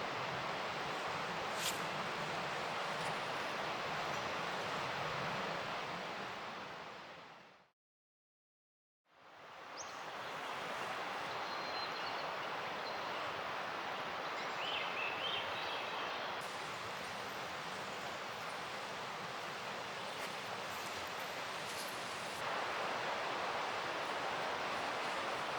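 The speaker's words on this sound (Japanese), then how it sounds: "今日そこそこ風も吹いていますし" Wind blowing across a campsite around a Snow Peak Land Nest shelter tent produces a steady broadband rushing that stays constant apart from one brief drop to silence.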